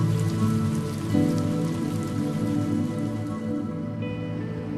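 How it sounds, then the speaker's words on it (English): Heavy rain falls steadily on a surface, a dense, continuous wash of close drops with no pauses. "The rain has been very heavy these days, like tears shedding from heavens"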